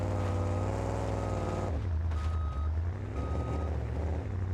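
A monster truck in the BeamNG video game backs up with a steady electronic reversing beep, two tones sounding over a loud, continuous low engine drone.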